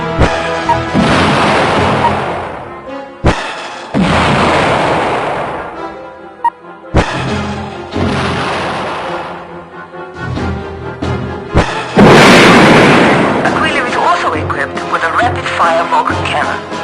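Loud bursts of energy weapon fire and heavy explosions in a video game, in repeated volleys, each sustained for a second or two, separated by brief gaps.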